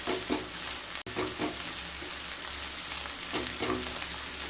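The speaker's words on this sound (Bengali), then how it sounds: "এগুলো যখন ভাজা হয়ে যাবে এরকম স্প্যাচুলা দিয়ে একটু ভেঙে নেব এইভাবে" Eggs sizzle in hot oil in a pan while a spatula breaks them up, its scrapes and taps repeating irregularly over a steady close frying hiss.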